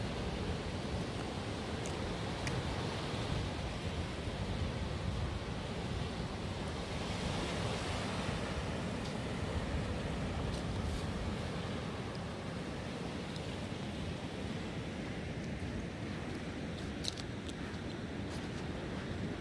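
Ocean surf washes continuously onto Carolina Beach as the tide goes out, a dense, steady roar with wind buffeting the microphone throughout.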